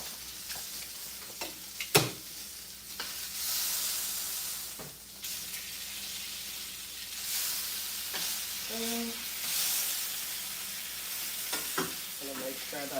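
Salmon fillets frying in a pan, a steady close sizzle and hiss throughout, with a few sharp clinks and scrapes of a utensil against the pan.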